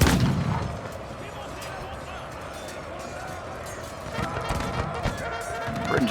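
Dense battle din fills the scene as British and French troops at Blenheim exchange fire in a Rise of Empires Total War multiplayer battle. A continuous roar of cannon and musket volleys with sharp overlapping bangs plays under a voice.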